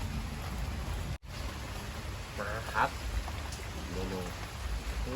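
Continuous rain patters evenly in the background, broken by a moment of dropout and a couple of faint, muffled voices.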